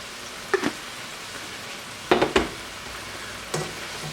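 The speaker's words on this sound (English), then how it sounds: "I'm going to continue letting these saute in this butter." Food sautéing in butter with parsley flakes for hamburger steak Diane, a soft continuous sizzle broken by three brief bursts of utensil scraping and stirring, no talking.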